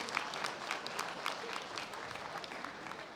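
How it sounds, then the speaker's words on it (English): Spectators at a world bench press championship clap for three women athletes on the platform, a fairly quiet but continuous wash of applause that carries on without a break. "Big round of applause for these three fine young ladies"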